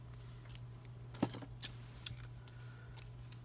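Scissors cut paper for a Hobonichi Weeks planner, a few soft close snips and crisp clicks spaced irregularly over a faint steady hum, with no talking.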